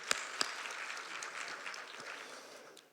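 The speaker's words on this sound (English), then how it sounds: "let's give a round of applause for that" A round of applause fills an evening keynote audience at a library reading event, steady dense clapping from a crowd with a couple of sharper claps near the start, fairly faint and continuous.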